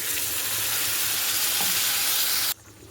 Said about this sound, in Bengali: এই যে নুন হলুদ লঙ্কার গুঁড়ো দিয়ে আলুটা একটু ভেজে নেব